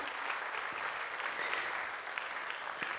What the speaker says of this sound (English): I think we should give a warm, hearty clap to